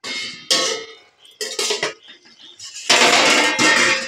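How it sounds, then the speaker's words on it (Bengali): A lid comes off a cooking pot of simmering potatoes and chicken kosha. Several close metallic clanks and scrapes ring out in short bursts, with quieter gaps between them. "ঢাকনটা খুলে নিলাম"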